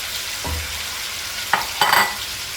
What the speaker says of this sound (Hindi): और साथ ही हम इसमें ग्रेवी ऐड कर देंगे ताकि हमारे मसाले जो है वो जल ना जाए।